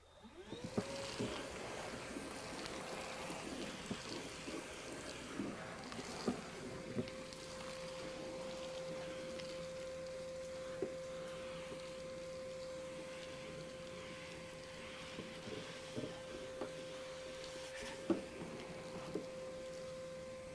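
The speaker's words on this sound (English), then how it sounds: "let's use our vacuum and let's clean this up" A Milwaukee M18 FUEL 6-gallon cordless wet/dry vacuum motor spins up on low and hums steadily at a constant pitch, with occasional clicks and knocks as debris is sucked in.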